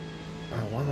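A Bentley engine in the Forza Motorsport racing game holds a steady drone, then revs higher in second gear near the end of a brief burst, loud and close.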